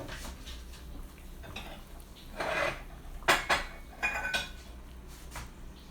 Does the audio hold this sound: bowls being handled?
yes